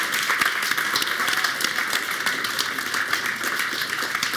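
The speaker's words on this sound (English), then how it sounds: "can we give a big round of applause to your VPDCI candidates?" A student audience applauds election candidates at a campaign Q&A, sharp individual claps standing out within a steady round of clapping that continues evenly without speech.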